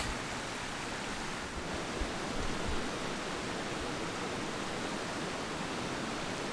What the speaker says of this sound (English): Good view of Kevin here on his second shot and the surrounding creek